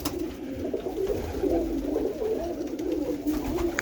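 Pigeons coo softly and repeatedly against a steady background hum, the low throaty calls overlapping without pause.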